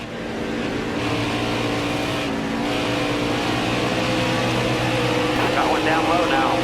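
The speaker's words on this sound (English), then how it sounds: "listen to another 3-car battle for the lead" Several race cars contest the lead in a racing event at Michigan, their engines a loud sustained drone with steady harmonic whine, a pack running close together throughout, with faint voices emerging near the end.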